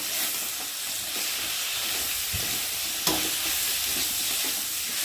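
A Bengali masala of turmeric, ginger paste, cumin paste, onion paste and chopped tomato fries in a pan for a katla fish curry. It makes a continuous close sizzle and hiss with a faint stirring clack and no voices.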